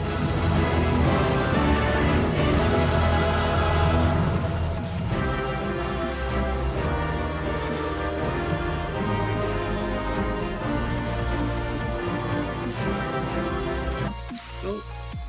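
Music and sound effects from the Final Fantasy video game play loud and continuous throughout, with a dense, layered texture that shifts briefly near the end.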